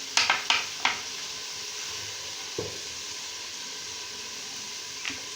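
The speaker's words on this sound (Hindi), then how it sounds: "इनको अच्छा सा मिक्स करेंगे।" Spices and seasonings are stirred together in a cooking pan for Pakistani-style chicken macaroni, with a soft steady sizzle under a few clinking spoon-against-pan taps, clustered at first and then spaced out.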